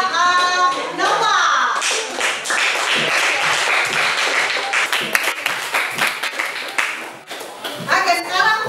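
Classroom children clap for a classmate, a burst of quick, close hand claps that runs for several seconds and then fades, with young voices and a teacher talking at the start and the end.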